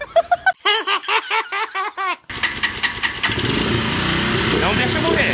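Voices and laughter come first, then a motorcycle being push-started splutters and catches, its engine settling into a loud, steady running drone close by.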